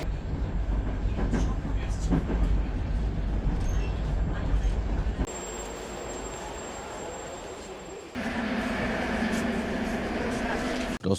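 A Tashkent metro train rumbles and clatters with a loud, continuous roar. It then shifts into a quieter, hissing interior hum before the heavy rolling noise returns, and there is no clear speech.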